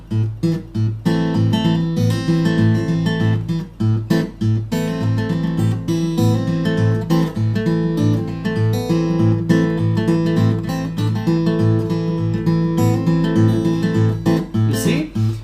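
Acoustic guitar Travis picking: a steady alternating ragtime bass thumps out an even pulse while melody and chord notes ring on top, played alone and up close at a constant volume for the whole stretch.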